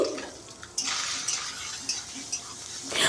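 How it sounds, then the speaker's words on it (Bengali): Soybean chunks with turmeric sizzle and get stirred in a pan, a soft steady frying hiss with scraping and clinking of the spatula, fairly quiet and close. "আমি সয়াবিনটাও ভালো করে ভেজে নেব একটু লাল করে"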